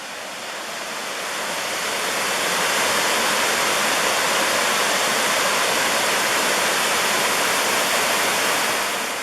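A waterfall pours into a pool beside a hiking trail, giving a steady, dense rushing roar that swells slightly at the start and then holds loud and constant.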